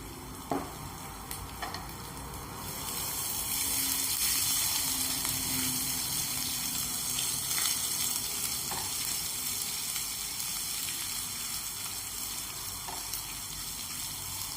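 Coarsely pounded ginger-garlic paste sautés in a pan for a dry black chana dish, giving a steady, close sizzle that swells after a soft start and carries on evenly with no talking.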